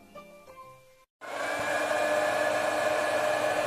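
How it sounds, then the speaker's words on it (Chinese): A bathroom hair dryer switches on after a short hum and a moment of silence, then blows in a steady, close, continuous whoosh until the end. "把浴室的吹风机拿过来"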